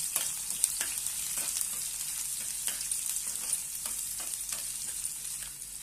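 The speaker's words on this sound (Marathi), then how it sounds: "छानपैकी आपण आता हे परतून घेऊया कांदा" Finely sliced onion sautés in a pan with a soft, continuous sizzle, punctuated by light, irregular clicks from stirring; no one speaks.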